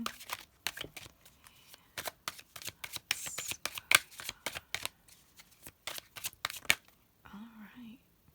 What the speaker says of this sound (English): fast forward through the shuffling if you like